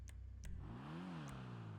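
An upgraded car engine in GTA 5 revs once, rising and then falling back to a steady idle hum, close and fairly loud with a few faint clicks.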